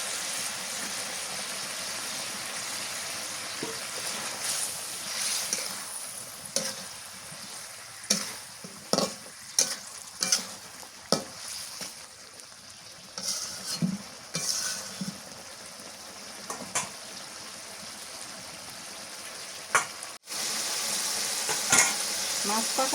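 Hilsa fish going into sautéed spices in a pan: constant frying hiss with irregular clatters and scrapes of stirring, fairly close, a voice now and then over the cooking.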